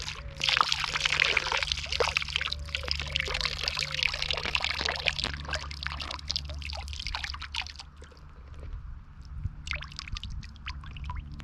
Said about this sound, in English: I suppose I ought to really drain this juice out in the water.